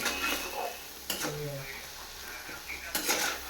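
Masala is stir-fried in a pan with a spatula scraping and clanking against the metal at intervals, a faint sizzle underneath, no voice.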